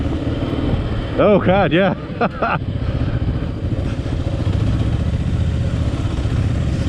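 Motorcycle engine on a morning ride in Scarborough, Maine, running steadily with shifting revs as the rider works the clutch, accompanied by wind rush, while someone speaks briefly over it.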